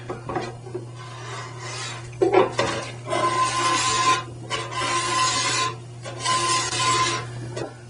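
A metal file wrapped in tape rasps back and forth across a workpiece in repeated close strokes of about a second each, with brief pauses between them and a steady low hum underneath.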